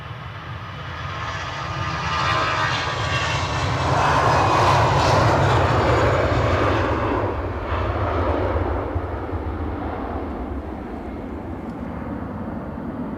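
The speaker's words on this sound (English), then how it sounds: "we have a Norwegian 737 bearing the Freddie Mercury tail fin" A Norwegian Boeing 737 jet at windy Edinburgh Airport roars steadily for about thirteen seconds, its engine noise swelling to a peak midway and then easing slightly, with gusty wind rumble underneath and no voices.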